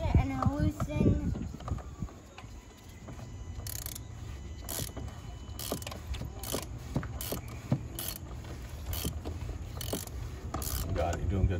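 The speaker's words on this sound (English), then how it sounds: "Okay, so I'm going to have this ratchet and I'll loosen." Hand ratchet loosening the oil filter on a car during an oil change, a string of sharp clicking bursts spread across the clip, close up, with a voice speaking briefly at the start.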